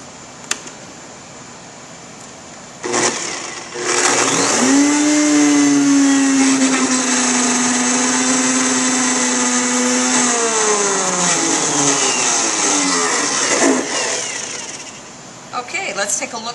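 An immersion blender whirs steadily for about ten seconds while pureeing strawberry sauce, its motor pitch settling low and then shifting. Brief clicks and handling noises sit around it, and there is no talk during the run.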